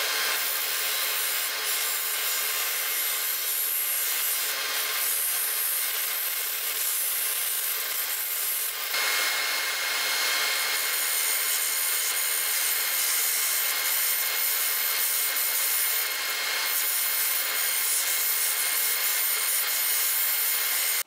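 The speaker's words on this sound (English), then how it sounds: "I'll cut that off, round it out to fit the hole, and basically have myself a patch." Hand saw cutting through a wooden post offcut to make a patch for a mortise in a large workpiece, a steady, loud back-and-forth rasping of strokes that continues without pause and with no talking.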